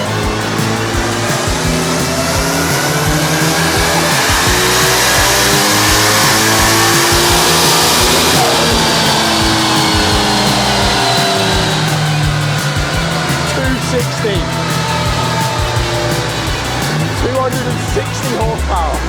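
Tuned Toyota Sera engine revving hard on a dyno during a power run, a loud sustained roar with rising and falling engine tones across the whole stretch and no talking.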